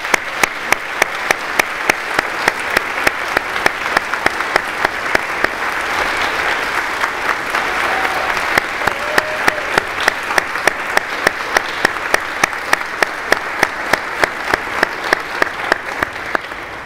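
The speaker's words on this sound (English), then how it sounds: "So could you join me in giving them a round of applause?" Sustained applause from an audience at a school welcome-back event, steady and loud throughout with dense clapping.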